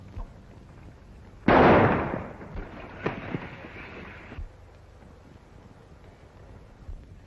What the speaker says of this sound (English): Shoot the gun out of his hand